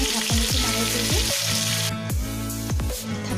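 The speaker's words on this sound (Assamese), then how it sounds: "এতিয়া মই এইখিনি ভাজি কিনে ঢাকনিটো মাৰি দি দিম।" Chicken and large potato chunks frying in a pan give off a steady, dense sizzle throughout, with a few sharp clinks and scrapes from cookware over the hiss.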